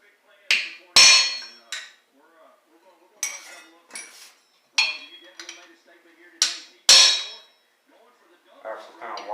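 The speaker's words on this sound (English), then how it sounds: "We'll smack them with the cold chisel." A hammer strikes a cold chisel against the axle of a 1955 Chevy gasser, sharp metallic clangs coming in irregular bursts with ringing tails and quiet pauses between, close and clear.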